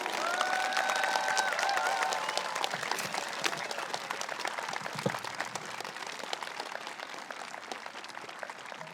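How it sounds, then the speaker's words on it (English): Sustained applause from an audience at a middle school 8th grade graduation ceremony, dense and steady clapping filling the room for the whole span and slowly tapering slightly, with a few faint cheers early on. "let's have a big round of applause for all of you"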